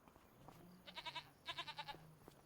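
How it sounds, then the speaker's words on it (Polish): Goats on a farm in the video game Farming Simulator 25 bleat in two quick, pulsing bursts, faint and slightly distant over a soft ambient background. "Posłyszymy kozy"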